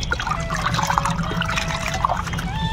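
A Texas sage plant's root base is set into a water solution mixed with fungicide, giving continuous close trickling and gurgling with small drips and bubbly plinks throughout.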